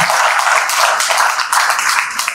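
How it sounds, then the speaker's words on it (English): An audience at a college talk in Visakhapatnam applauds to welcome a professor, a dense, loud, continuous wash of clapping from many hands that never lets up. "let us welcome Sir Professor Kathamani sir with a big round of applause"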